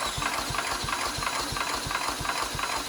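An engine being spun over by a power drill during a compression test makes a steady, rapid train of evenly spaced thumping pulses, loud and close, with no talk.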